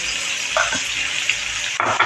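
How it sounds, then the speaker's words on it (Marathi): Tempering for colocasia leaf rolls sizzling in oil in a pan while being stirred, a close crackling fry with two short scraping stirs, alone without talk. "हे बघा आता फोडणी आपली छान सगळीकडे लागेल"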